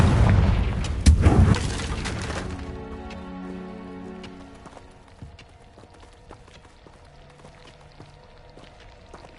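Confringo spell blasts in Hogwarts Legacy land as a loud booming burst near the start, then fade into a quieter rumble with lingering tones and scattered small impacts.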